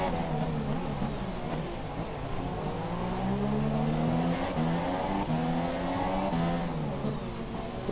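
Racing cars in an F3-class racing game roar through the narrow castle section of the Azerbaijan street circuit, engines revving and shifting pitch as they pass in a loud, continuous stream.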